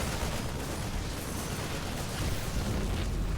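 A continuous roar of explosions and battle noise from a StarCraft II match, with a Disruptor shot blast mixed into a dense, steady wash of booms and crackling, loud and without any talking.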